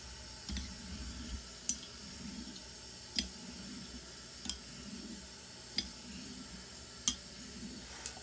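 Tap water runs steadily into a sink to rinse a safety razor blade, with sharp clinks of the razor tapping the basin at a regular pace, close and fairly quiet.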